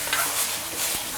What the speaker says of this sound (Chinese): 炒这个豆芽一定要保持它的脆度和嫩度，别炒得特别的死